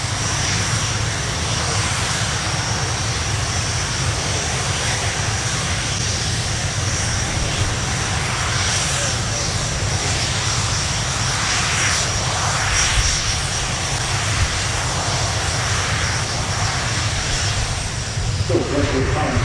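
Royal Air Force Red Arrows jets take off at the RIAT 2019 air show with a continuous loud roar of aircraft engines. An announcer talks over the noise throughout.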